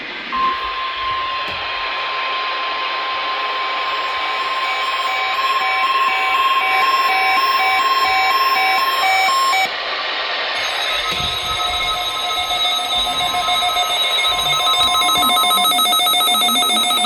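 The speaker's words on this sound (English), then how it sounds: "The alarm tones you just heard would be activated and immediately followed" Emergency Alert System weekly test alarm tones sound loud and continuous, a steady piercing two-tone electronic alert that shifts partway through to a second set of tones, with no talking.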